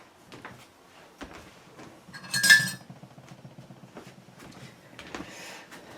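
A spoon is fetched from a kitchen drawer: soft rummaging, then a bright metallic clink of cutlery midway, followed by quieter shuffling.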